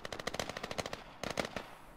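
Rapid machine gun fire in the Squad military shooter game, a steady string of loud close bursts with a brief pause before another volley.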